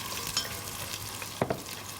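Shallots fry softly in a saucepan with a faint steady sizzle, and a couple of light stirring scrapes stand out near the middle.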